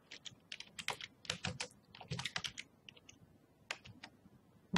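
Someone types on a computer keyboard while building a site in Google Sites, with close, quiet clicky keystrokes in quick irregular bursts and short pauses, and no talking.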